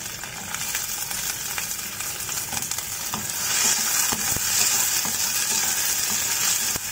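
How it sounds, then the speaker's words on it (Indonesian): Sliced shallots frying with cut red chilies and bird's eye chilies for soto daging, a loud continuous sizzle with occasional stirring scrapes, swelling a little halfway through, no voices. "bawangnya masukkan sekali cabai merah sama cabai rawit dipotong-potong biar tidak meletup-letup"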